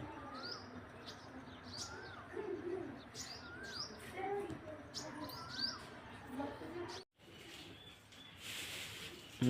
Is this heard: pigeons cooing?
yes